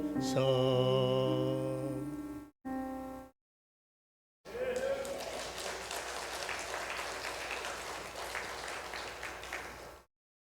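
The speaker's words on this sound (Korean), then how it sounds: "못 부른 찬송 듣고 박수 받아보기 또 처음이네요." A church congregation at a Sunday afternoon service applauds after a hymn: a sung note fades and a brief silence follows, then scattered clapping from the room builds and continues for several seconds before stopping abruptly.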